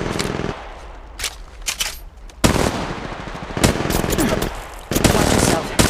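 Automatic gunfire from the battle royale video game Apex Legends comes in several loud, rapid bursts with short pauses between them, close and sharp, alongside a low game voice.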